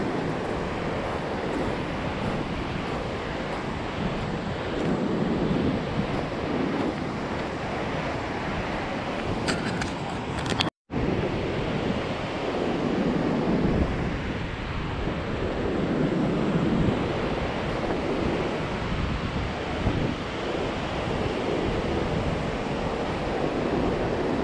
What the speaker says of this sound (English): This is Ruby Beach in Washington State, the Washington coast.